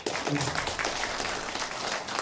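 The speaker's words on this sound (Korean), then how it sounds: "박수 한번 보내주십시오" Audience applause at a public briefing in Suncheon on the Jeonnam–Gwangju integration, a steady wash of clapping from a hall crowd lasting a couple of seconds, fairly even and moderately distant.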